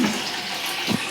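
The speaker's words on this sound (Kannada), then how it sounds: "ಈ ಕಡೆ ಅಷ್ಟೆಲ್ಲ ನೀರು ತುಂಬ್ಯಾರ" Tap water runs steadily into containers, a continuous close splashing rush with a brief thicker gush near the end.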